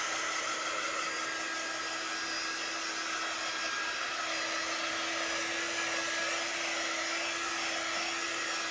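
A hair dryer blows steadily over a welcome-sign craft project with dragonfly vines, a continuous, even whooshing whir held close at constant strength throughout, with no voices.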